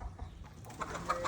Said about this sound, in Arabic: والله اول مرة شفت دجاج يطير